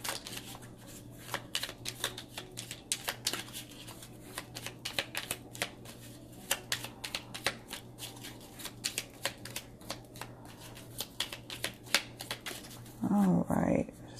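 Oracle cards being shuffled in a reading setting, a long run of rapid crisp riffling and flicking that keeps going for several seconds, with a soft voice talking over it near the end.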